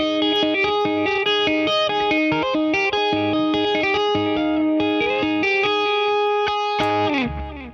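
Electric guitar run through a Quad Cortex, a tapped part of quick ringing notes in a continuous flowing pattern with chorus and reverb shimmer, loud and alone.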